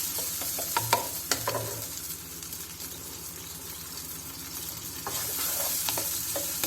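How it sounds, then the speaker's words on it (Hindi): Chopped tomatoes fry in a pan on medium flame for daal mash, giving a steady close sizzle with occasional stirring scrapes and clinks throughout. "इसको मैं 2 से 3 मिनट फ्राई करूँगी, थोड़ा सा कि टमाटर हल्के से सॉफ्ट हो जाए।"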